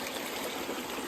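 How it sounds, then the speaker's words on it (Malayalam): A small stream flows across family land, giving a steady broadband rush and trickle of water, close and continuous with no voices. "ചെറിയൊരു അരുവി."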